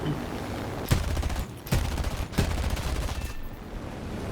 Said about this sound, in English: These guns don't hit as hard as they used to.